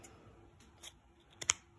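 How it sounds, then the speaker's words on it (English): Scissors snip while trimming material for a pinecone ornament, with a faint early cut and then two quick, crisp snips close together near the end, nearby and quiet, with no talking. "So we're gonna take our scissors,"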